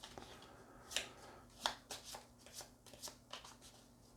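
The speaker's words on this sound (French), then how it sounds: "Oh, je vais mélanger encore celui-là." Playing cards are shuffled in the video game Way of the Samurai 6, a quiet run of crisp riffling snaps and clicks in an uneven rhythm, with no voices.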